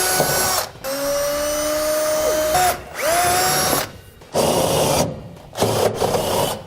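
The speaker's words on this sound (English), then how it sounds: "I'm going to drill a pilot hole first." A power drill bores a pilot hole in the frame of a 2015 Chevrolet Silverado 2500 for a gooseneck trailer hitch: loud close whining bursts rise and dip in pitch, separated by short pauses.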